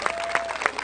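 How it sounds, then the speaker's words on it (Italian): Brief burst of audience applause for an organizer at a live bridal and curvy pageant final, scattered claps heard at moderate distance for under a second. "fate un applauso a una delle organizzatrici"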